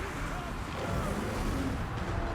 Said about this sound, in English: there goes another Croak explosion